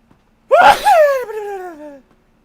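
A single loud, close sneeze bursts out after brief silence, trailing into a drawn-out voiced tail before quiet returns.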